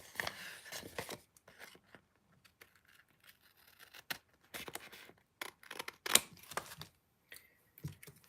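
Scissors snip through card paper in a quiet craft setting, a scattering of short crisp cuts and rustles spread unevenly across the moment, close and soft.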